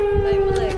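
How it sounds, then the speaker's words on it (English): A steady wailing tornado siren holds one pitch in the background, with faint voices and crowd noise mixed underneath. "The tornado sirens still sounding."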